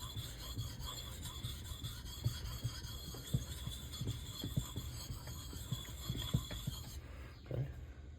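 An axe is sharpened on a natural Belgian coticule whetstone, with steady close rasping strokes that rub back and forth in an uneven rhythm over a faint high hum.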